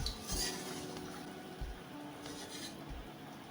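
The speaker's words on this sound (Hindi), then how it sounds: "अब हम इसे ऐसे किनारे पे लाके भुजिया को दूसरे बर्तन में निकाल लेंगे इस तरह से" Fried gujiya made with ginger powder and jaggery are lifted out of a frying pan into another vessel, giving soft metallic scrapes and clinks of utensil against pan over a faint background, with no voices.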